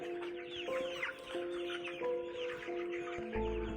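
Desi gavran chickens cluck and call at a village poultry farm in Parner, with repeated close clucks and a rooster-like call over a steady background of birds.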